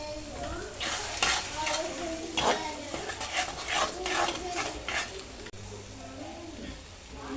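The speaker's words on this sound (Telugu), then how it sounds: "ఇప్పుడు ఎగ్ వేసుకుంటున్నాను" Beaten egg sizzles in a hot frying pan while a utensil stirs and scrapes through it, giving a busy, close crackle with repeated bursts of stirring.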